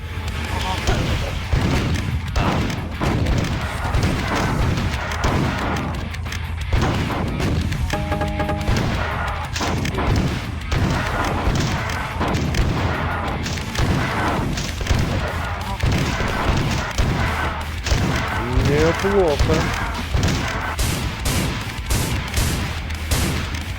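Dual shotguns firing in the first-person shooter Marathon: a dense, loud barrage of repeated booming blasts and reload clatter that runs the whole time, with someone narrating over the gunfire.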